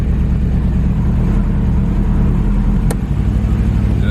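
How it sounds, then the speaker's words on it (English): A Honda B-series GSR engine, freshly swapped after a head gasket job, runs with a steady, loud low rumble throughout, with one brief sharp click partway in. "Now, better see if she crank over, man."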